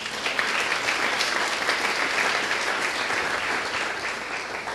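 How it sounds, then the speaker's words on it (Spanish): Inside a church, the congregation gives a sustained round of applause, a dense, even wash of many hands clapping together that holds steady for several seconds. "Démosle un aplauso al bendito sea."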